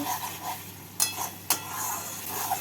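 Spices stirred and frying in oil in a pan for egg laziz, a soft steady sizzle with two sharp scrapes of a utensil against the pan, heard up close without any talk.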